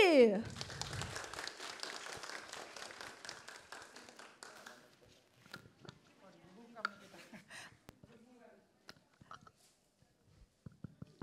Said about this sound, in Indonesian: Beri tepuk tangan sekali lagi dong untuk Bang Rian